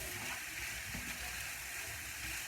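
Minced meat and carrots stirred in a frying pan for a hachis parmentier, a steady soft sizzle with faint scraping throughout, no voices.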